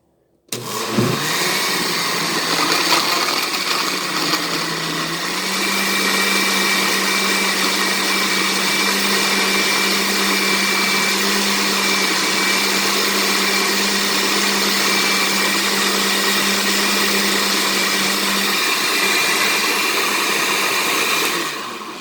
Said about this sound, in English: So I'm going to start with grind.